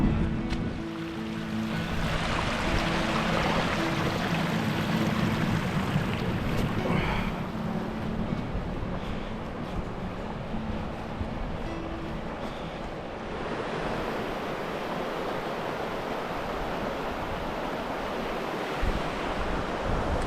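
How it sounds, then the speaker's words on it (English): A stream running down into the River Tees on a Pennine winter wild camp, heard as a constant broadband rush of flowing water mixed with wind buffeting, steady and fairly loud throughout. "that's a stream running down into the Tees there"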